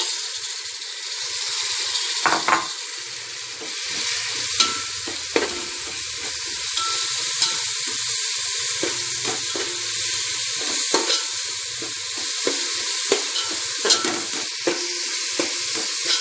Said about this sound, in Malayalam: നല്ലതുപോലെ വശക്കി കൊടുക്കുക.